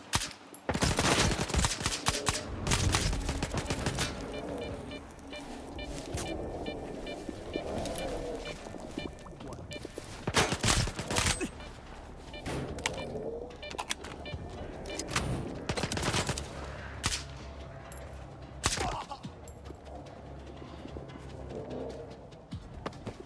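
Gunfire in a survival horror video game, sharp loud bursts and volleys scattered irregularly among clattering hoof-like thuds and other game noise.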